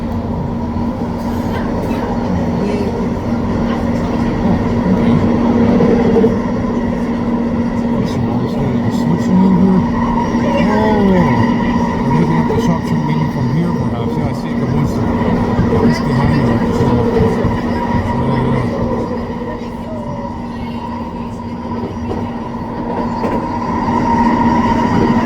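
A Vancouver SkyTrain Expo Line train heard from on board, heading eastbound toward the Edmonds depot and shops. It gives a steady, loud electric motor hum with a constant tonal whine and rumbling wheel and track noise that runs continuously throughout, easing slightly near the end.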